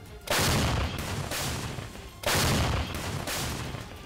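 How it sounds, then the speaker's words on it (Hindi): Heavy gunfire during armed clashes in Chechnya, loud dense volleys of shots in two sustained bursts with brief lulls, close and harsh with no voices. "विद्रोहियों ने कादिरोव के समर्थकों पर जोरदार फायरिंग की"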